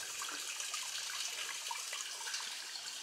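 Water runs steadily into a floor drain in a barn under construction, a continuous trickling hiss that sounds close and holds an even level throughout, with no talking.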